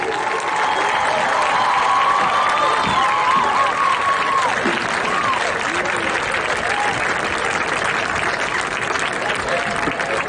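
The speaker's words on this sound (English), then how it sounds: "let's give all of these inductees one more round of applause" A high school football crowd applauds Wall of Fame inductees at a game ceremony, sustained dense clapping mixed with cheers and shouts across the stands.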